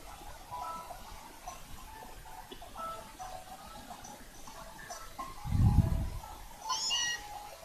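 The cat Pokémon Miaou (Meowth) meows in Pokémon Sun, a short, bright call near the end over busy in-game music and background sound.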